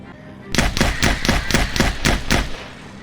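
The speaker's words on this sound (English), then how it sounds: "as you can see, fully automatic fire, not too effective" Fully automatic gunfire in Project Zomboid: a sharp burst of about eight evenly spaced shots in quick rhythm, loud and close, with no talking.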